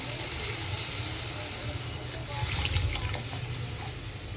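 Water is poured into a hot pan of vegetarian paneer masala, giving a loud, steady hiss and sizzle that swells and fades as the liquid hits the hot gravy.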